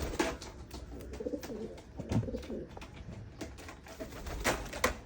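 Pigeons coo and flutter outdoors during a free-fly recall of homing pigeons, with several soft, repeated low coos over steady background noise and no talk.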